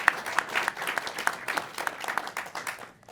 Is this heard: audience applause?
yes